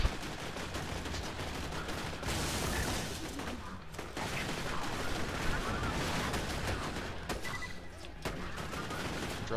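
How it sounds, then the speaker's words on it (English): Rapid, dense gunfire from a machine gun that launches grenades in Borderlands 2, sustained and loud with explosive bursts layered through it, and brief gaps between volleys. "No, it's machine gun. Yeah, but it's shooting grenades."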